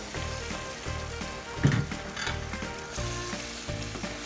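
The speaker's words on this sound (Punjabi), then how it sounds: "ਹੁਣ ਛੋਲਿਆਂ ਨੂੰ ਜਿਹੜਿਆਂ ਨੂੰ ਆਪਾਂ ਧੋ ਕੇ ਰੱਖਿਆ ਸੀ ਹੁਣ ਆਪਾਂ ਐਡ ਕਰਾਂਗੇ" Washed chickpeas go into hot masala for Punjabi chole and sizzle up close. The frying crackle swells with a stir in the middle and carries on steadily with no voices.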